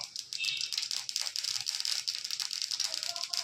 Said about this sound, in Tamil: இப்போ எண்ணெய் ஒரு கடாய் வச்சு எண்ணெய் ஊற்றிருக்கேங்க கடுகு போட்டுக்கிறேன்